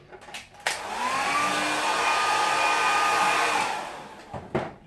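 A hair dryer quickly dries a watercolour coastline painting, a steady whooshing roar that rises after a click, holds for about three seconds, then falls away, with a few faint knocks around it.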